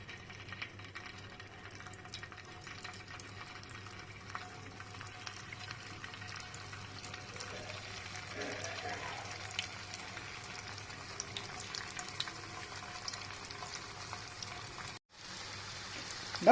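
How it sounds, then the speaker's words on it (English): Steady sizzling and crackling of food frying in hot oil, continuous and fairly quiet, with a brief dropout near the end. "Now we have started placing our cauliflower florets into the pan"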